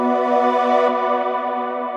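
A sustained buzzy square-wave synth tone, low-pass filtered with an LFO and unison voices, holds one note with a shimmering, chorused width, steady and bright, with no other sounds around it.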